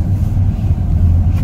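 An Infiniti G35 car engine goes past close by, giving a loud deep droning rumble that holds steady throughout.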